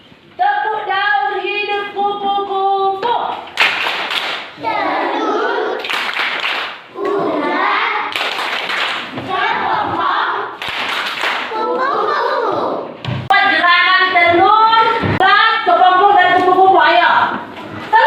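Children chanting a rhythmic Indonesian clapping song about butterflies in a classroom, with sung voices and steady handclaps close and loud throughout.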